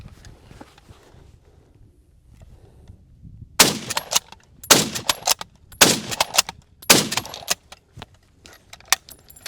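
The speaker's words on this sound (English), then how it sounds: "you can see just how fast I was able to get those follow-up shots, and that's really quick for a bolt action rifle" A Lee Enfield No 4 Mk 1 bolt-action rifle fires four loud, sharp shots in quick succession, each followed closely by the clack of the bolt being cycled, after a quiet lead-in.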